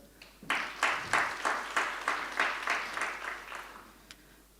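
A crowd at the live draw for the Bayhill Premier Cup football tournament gives a round of applause: about a dozen steady, rhythmic claps in near unison that gradually fade.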